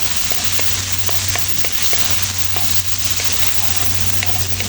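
Tomatoes sautéing in a frying pan with onion for a Filipino ginisang galunggong dish, a steady loud sizzle with occasional light stirring clicks throughout, no talking.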